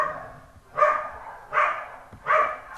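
Dogs bark outdoors, three separate barks spaced under a second apart, each with a short howling tail, heard at a moderate distance with no one talking.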